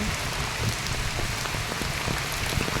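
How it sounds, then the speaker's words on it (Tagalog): Heavy rain pours down steadily during a typhoon in Vigan, Ilocos Sur, a dense, close, even hiss of drops drumming on surfaces with no one speaking. "lumalakas na guys ang ulan"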